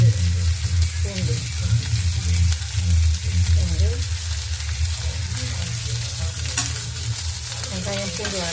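Onion and garlic with curry leaves sauté in a pan for tiffin sambar, giving a loud, continuous sizzle with the scrape and clatter of stirring close by, and no clear talking.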